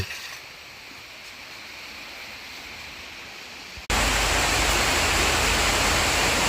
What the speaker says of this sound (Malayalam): ഷീറ്റിൽ വെള്ളം വീഴുന്നതുകൊണ്ടേ പറയുന്നതൊന്നും കേൾക്കാൻ പറ്റില്ല ഇതാ നല്ല മഴയാണ്